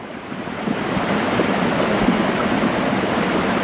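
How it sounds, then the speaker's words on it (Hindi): Dirty, contaminated water gushes steadily from a pipe into a storage tank in Jammu, a loud continuous rushing and splashing wash with no voices. "वो देखिए कितना गंदा पानी आ रहा है"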